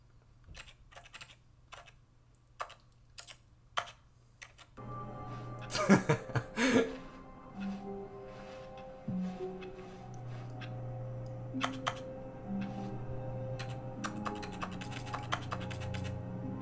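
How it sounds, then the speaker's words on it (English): Rapid computer keyboard typing in bursts of crisp clicks and taps from a Stanley Parable: Ultra Deluxe play session, close and fairly loud, with some talking and laughter mixed in. "anything you touch sounds like a keyboard"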